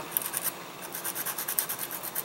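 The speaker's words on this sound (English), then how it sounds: "It's simply just going to be quick sanding just to get some of that material off" Quick hand sanding across the scales of a King Ghidorah model kit, a run of short, dry scratchy rubbing strokes in an uneven rhythm, close and fairly quiet, with no voices.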